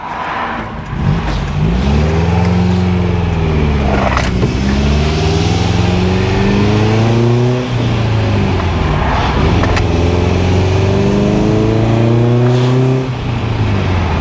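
An MGB GT, one of the last Abingdon-built cars, fitted with a custom exhaust manifold, pulls hard through the gears, loud rising engine drone climbing in pitch, dropping at each shift and climbing again, recorded close and steady throughout.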